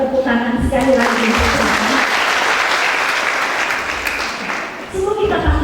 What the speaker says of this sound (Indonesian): Yang bersukacita kita tepuk tangan sekali lagi.